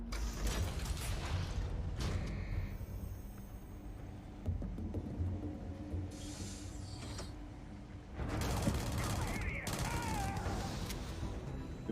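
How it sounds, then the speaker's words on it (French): Action sounds from the Starfield video game as a pirate explodes: mechanical creaks and clanks with sharp bursts of gunfire-like blasts, loud and continuous over twelve seconds, with a heavier burst near the end. "Pirate qui explose."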